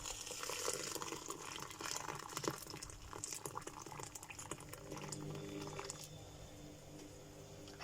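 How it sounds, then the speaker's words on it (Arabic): Boiling water is poured over freekeh in a bowl in a home kitchen, giving a soft continuous splashing and trickling with faint clinks and rustles, fairly quiet and close, with no talking. "واحط عليه ميه مغليه."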